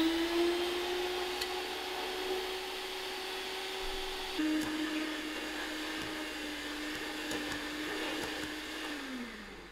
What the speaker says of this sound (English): I'm going to use my mixer to cream this